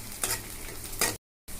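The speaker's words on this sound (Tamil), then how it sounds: "புளி சேர்த்து வதக்கலாங்க." Onions, dried chillies and tamarind sautéing in a pan: continuous sizzling with two louder bursts as the mixture is stirred, then a brief silence and more frying.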